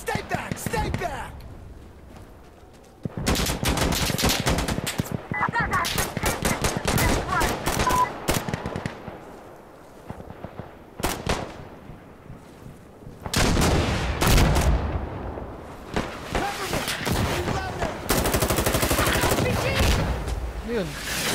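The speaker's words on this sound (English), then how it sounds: "Artillery coming!" Heavy gunfire bursts and booming artillery fire in the Insurgency Sandstorm game, loud and sustained in long stretches with brief lulls, with voices shouting over the battle.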